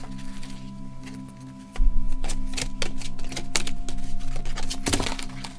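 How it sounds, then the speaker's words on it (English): A deck of tarot cards is shuffled close by in a steady run of quick papery riffles and taps, over a low constant hum of background music, with no talking. "let's shuffle these"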